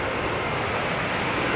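An airliner with Rolls-Royce engines lands at Heathrow in windy weather, a steady broad engine roar filling the whole short stretch, loud and close, no talk.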